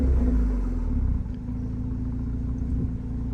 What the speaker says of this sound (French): on va vous faire un petit démarrage